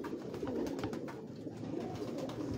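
Pigeons of an old breed coo and flutter in steady low murmurs, a dense continuous cooing from several birds close by, with no speech.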